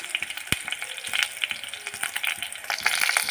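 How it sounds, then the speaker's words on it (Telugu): Onion and curry leaves fry in hot oil with spluttering mustard seeds for an eggplant curry. The close, bright sizzle carries scattered pops and crackles, with no voices. "ఆవాలు చిటపటలాడిన తర్వాత ఆనియన్ అండ్ కరివేపాకు వేసుకోవాలండి."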